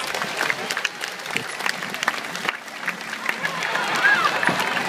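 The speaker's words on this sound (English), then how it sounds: "Give her a round of applause." An audience claps for a trainer at a seal training show at Taronga Zoo, a steady wash of applause lasting several seconds and swelling slightly toward the end.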